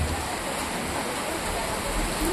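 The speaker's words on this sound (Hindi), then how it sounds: "ये बरसात इतनी तेज है कि मुझे लग रहा है ये इस मौसम की सबसे तेज बरसात है।" Heavy rain pours steadily in Delhi during the monsoon season, a dense, continuous wash of hiss and spatter. It stays loud and unbroken throughout, with no clear voices.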